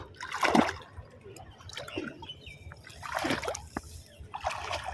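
Water splashing and sloshing in bursts as someone wades through a flooded field where nal plants grow, several separate surges of churning water at close range with quieter trickling between them.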